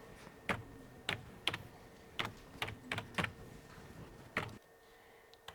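Someone types on a computer keyboard, sharp close key clicks coming in uneven bursts over a few seconds and then stopping, with no one talking.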